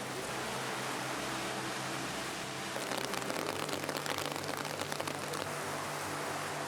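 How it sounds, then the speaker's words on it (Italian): Heavy rain pours down in the streets of Perugia, a dense, steady hiss of drops hitting surfaces that swells a little partway through, with no voices. "inizia a piovere forte e non sembra intenzionato smettere molto in fretta"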